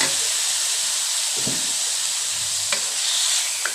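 Squid pieces hit a hot pan with fried garlic, giving a steady bright hiss and sizzle with a few soft stirring clatters, close and continuous with no talking.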